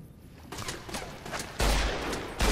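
Gunfire in Fallout: New Vegas, a run of shots and bursts with loud blasts near the end, with no talk over it.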